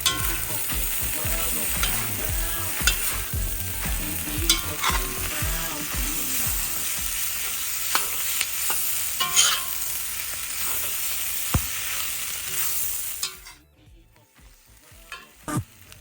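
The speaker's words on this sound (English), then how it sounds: "We're going to add the gizzard first. We're going to stir for a few minutes" Chicken gizzards sauté in a hot pan, a steady loud sizzle with the scrape and clatter of stirring throughout, dropping away near the end.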